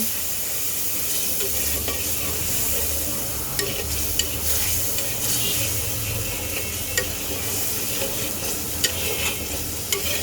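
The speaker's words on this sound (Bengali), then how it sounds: "এবার এই মশলাটাকে কষাবো" Spice paste of turmeric and ground coriander with a little water fries with cabbage and peas in a pan, a constant close sizzle broken by repeated scraping strokes of a stirring spoon.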